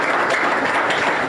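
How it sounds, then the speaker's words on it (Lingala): A theatre audience at a Congolese stage farewell claps in a dense, steady roar of applause that holds evenly throughout, close and fairly loud. "On peut applaudir."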